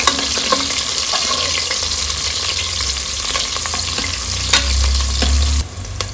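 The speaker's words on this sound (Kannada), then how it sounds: "ಒಂದು ಈರುಳ್ಳಿನ ಕಟ್ ಮಾಡಿ ಇಟ್ಕೊಂಡಿದ್ದೀನಿ ಅದನ್ನು ಸೇರಿಸ್ಕೊಂಡು ಚೆನ್ನಾಗಿ ಫ್ರೈ ಮಾಡ್ಕೊಳ್ಳೋಣ" Chopped onion fries in hot oil with dried curry leaves for a cucumber curry, a loud, steady close-up sizzle broken by occasional clicks of stirring.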